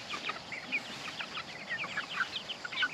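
Free-range hens, silver Americana and Easter egger birds among game hens, keep up a steady chorus of soft overlapping clucks and chirps, moderately close and without speech.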